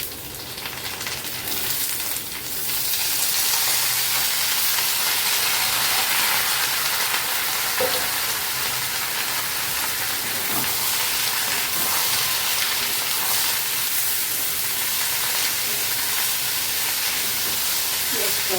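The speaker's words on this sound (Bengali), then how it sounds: "এখন এই পেঁয়াজ ভাজির মধ্যে সবজিগুলো দিয়ে দিচ্ছি।" Carrot, beans, potato and green chillies hit onions frying in a pan, setting off a loud, close, continuous sizzle and hiss that swells after the first couple of seconds and holds steady.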